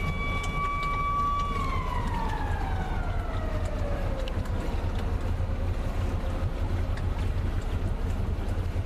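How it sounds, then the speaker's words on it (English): A river lock warning siren wails over steady low engine and water rumble, a sustained tone that holds and then glides slowly downward as it fades. "At every lock, you would hear sirens to tell you when the gates were closing or opening or water levels were changing."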